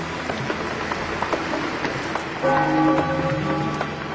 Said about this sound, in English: The rain continues a second day.